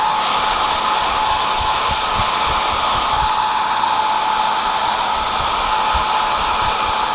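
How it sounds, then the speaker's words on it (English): A hair dryer blows continuously with a steady airy rush and a thin high whine, loud and close, with faint low thumps underneath. "you can move it with a hair dryer"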